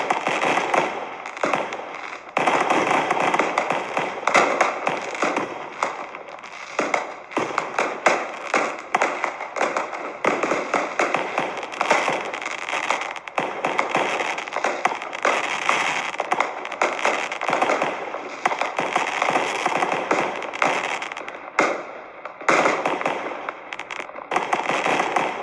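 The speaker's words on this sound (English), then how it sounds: "The fireworks is about to begin now." Animated Fourth of July fireworks burst in rapid, continuous volleys of crackling pops and bangs, loud and dense throughout with only brief lulls.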